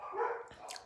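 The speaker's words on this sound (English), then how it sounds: "my dog's barking." A single short dog bark, faint and somewhat distant, rising then dropping away quickly, with no voices over it.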